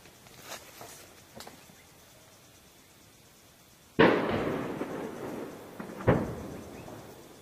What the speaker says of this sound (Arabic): قصف بالشلكة على مدينة قلعة الحصن